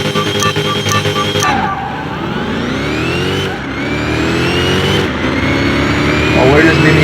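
Trackhawk SUV accelerating hard in a mile drag race, its engine roaring loud and close with pitch sweeping steadily upward through several gear changes.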